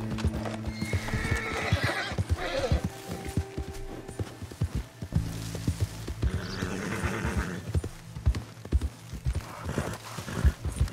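A horse in the Red Dead Redemption 2 video game neighs and whinnies repeatedly after being shot, with clip-clopping hooves and gunfire-like thumps. The sounds are moderately loud and irregular, with some faint talk mixed in.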